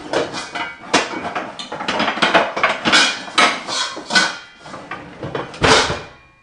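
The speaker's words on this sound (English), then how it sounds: "If Chica is in the kitchen, a pots and pans sound will play while she is in there." Clattering pots and pans from a kitchen in the Five Nights at Freddy's video game: a continuous, busy run of metallic bangs and rattles at moderate loudness, with no talk over it.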